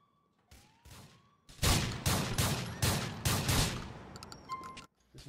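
Bursts of gunfire during a police SWAT shootout in a crime-city game: a few scattered shots, then loud rapid volleys in the middle, tapering to sparse cracks, with faint radio chatter and a siren-like tone beneath.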